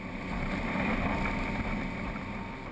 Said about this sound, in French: Le BWA HP Reef 80 que nous avons essayé est motorisé par 2 moteurs hors-bord Honda de 150 chevaux.